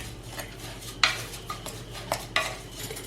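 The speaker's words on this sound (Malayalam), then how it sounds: "ഒന്ന് ഇളക്കി കൊടുക്കാം." Sesame seeds being stirred into a coarsely ground laddu mixture in a pan: a spoon scrapes and taps against the metal in several sharp, close strokes with quieter shuffling between them.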